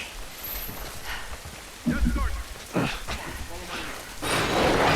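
Steady rain hisses throughout a scene in The Last of Us video game, a constant wash of noise under game voices talking and a few louder bursts of other game sounds.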